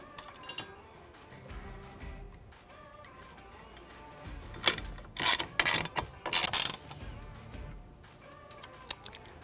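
A ratchet wrench tightens the bracket fasteners of a Trektop on a 4-door Bronco, with quiet clicks at first and then several loud bursts of rapid ratcheting.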